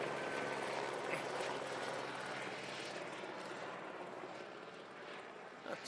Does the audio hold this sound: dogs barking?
no